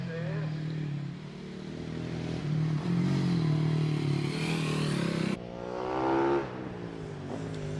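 KTM 796 motorcycle racing up the Prescott hill climb: a revving engine builds and wavers, then drops abruptly to a new gear and climbs again, fairly loud and close.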